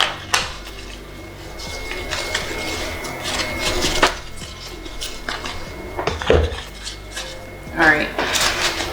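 Plant food is stirred into seedling potting soil with a metal tool, producing irregular scraping and clinking taps against a container, close and moderately quiet with a few sharper knocks.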